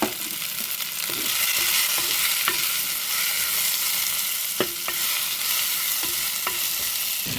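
Ingredients sauté with a sprinkle of salt in a hot pan, a dense continuous sizzle with occasional sharp clicks and scrapes of a stirring spoon, close and fairly loud, no talking.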